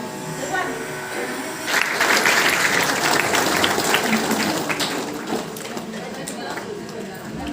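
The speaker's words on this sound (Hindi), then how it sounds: "जोरदार ताली बजाओ।" Audience applause at a Trimurti Shiv Jayanti (Shivratri) festival gathering in Bahadurgarh, a dense, steady clapping from a crowd that swells after about two seconds and carries on loudly to the end, with voices mixed in.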